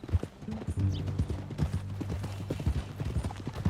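Horse hooves clip-clopping in Red Dead Redemption 2, a steady close rhythm of hoofbeats running throughout under low background music.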